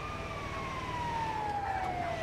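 An emergency siren on an ambulance, a continuous wailing tone that slowly falls in pitch, steady and moderately distant over low traffic rumble, with no talking.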